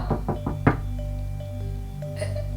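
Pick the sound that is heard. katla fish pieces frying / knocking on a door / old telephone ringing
knocking on a door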